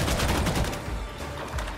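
Dense gunfire from a weapon in Warhammer 40k Darktide: a loud, close, rapid stream of shots that runs almost continuously, with a slight lull near the end.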